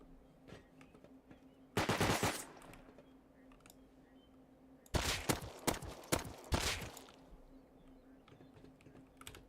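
Bursts of rapid gunfire in Rust, a short volley then a longer string of cracking shots, with scattered keyboard clicks and a steady hum underneath.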